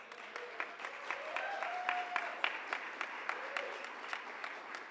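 An audience at a leadership celebration event claps in a sustained round of applause, with individual sharp claps standing out over the steady patter of many hands.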